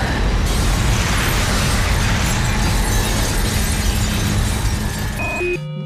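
Window glass shatters during a film stunt, a loud, dense crash that fills the space continuously for several seconds before cutting off abruptly into a brief, quieter clatter.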